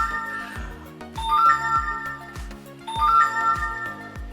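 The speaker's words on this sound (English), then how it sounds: "I got a phone going on behind me" A phone ringtone plays in the background, a bright repeating electronic melody that cycles twice over steady chiming tones, with no one talking over it.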